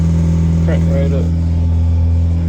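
A 1993 Honda Del Sol engine idles with a loud, steady, low hum that holds throughout, while a voice speaks briefly near the start.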